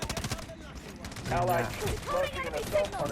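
Gunfire from a Delta Force Mobile match: rapid bursts of automatic shots, fairly close, rattling over continuous game noise, with someone talking throughout.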